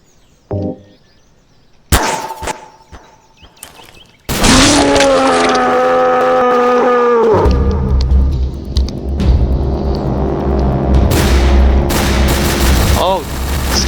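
Garry's Mod gunfire: a few sharp isolated shots, then a loud, dense barrage of rapid fire with a heavy rumble that continues to the end.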